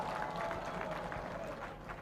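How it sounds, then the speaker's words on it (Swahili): Brief burst of crowd applause at a Kenyan political gathering, greeting the Senator of Nairobi; a short, dense patter of clapping with crowd noise. "Pigeni makofi."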